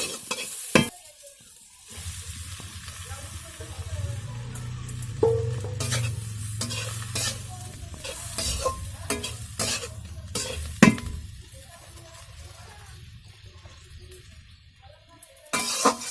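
Meat and roti stirred and fried in an oily pan, a steady sizzle under scraping and clinking of a spatula against the metal, with sharp utensil knocks scattered throughout at close range.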